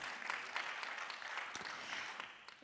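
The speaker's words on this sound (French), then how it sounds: "Donc on fait un applaudissement parce qu'ils sont venus, tout comme vous" Soft, distant applause from a conference audience at an energy-access event, a brief steady patter of clapping heard faintly in the room without anyone talking.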